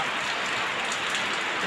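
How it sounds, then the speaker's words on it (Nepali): Steady, dense rain pattering on a surface, a continuous close hiss with no voices. "अहिले चाहिँ पानी पर्नु रह्यो"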